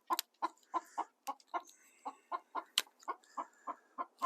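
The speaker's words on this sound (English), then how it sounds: "Excuse the chickens." Several chickens cluck in a steady run of short, sharp calls close by, repeating almost evenly with no voices over them, heard on a smallholding where a round section honey super is being prised apart.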